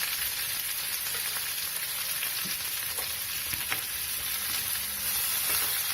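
Spices and coriander crackle and sizzle in hot oil for a kadhi tempering, a constant frying hiss with small pops scattered throughout, no talking.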